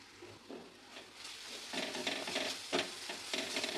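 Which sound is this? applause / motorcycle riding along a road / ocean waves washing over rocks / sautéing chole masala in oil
sautéing chole masala in oil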